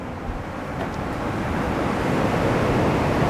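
Waves break and crash against the shore near a campsite, a broad rushing roar that swells steadily louder, mixed with some wind, and no voices.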